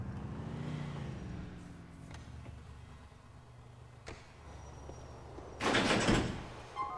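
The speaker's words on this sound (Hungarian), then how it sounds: "így agyon csap az ajtó, csá!" A car door slams in GTA 4 gameplay, a sharp burst near the end following quieter mechanical clunks and low engine rumble.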